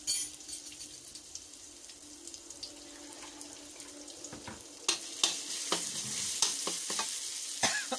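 Chili, garlic and a little black pepper stir-fried in a pan, a soft low sizzle at first, then louder scraping and clattering stirs toward the end.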